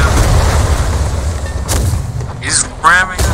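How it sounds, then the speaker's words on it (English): Ship cannons fire in the pirate sailing video game Atlas during a naval battle, a few loud booming blasts with rumbling tails, followed by sharp bursts and clattering effects. "Ethan, get on a cannon. Get on a cannon."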